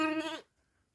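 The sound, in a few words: lamb bleating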